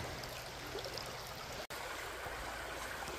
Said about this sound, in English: let me try to redirect some water